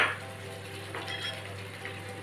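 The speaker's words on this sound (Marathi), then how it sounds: "आणि ती मिक्स करून घेते." Eggs being stirred into a simmering egg curry in a pan, soft scraping and light clinks of a spoon against the vessel over a low bubbling simmer, close and quiet with no speech.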